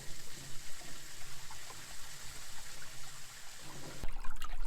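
Lake water from a hose filling a metal stock tank hot tub, a steady trickling, splashing flow heard close up with a brief knock near the end.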